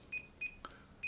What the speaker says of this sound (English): that beep becomes a double beep to warn you that you're at your last 5 characters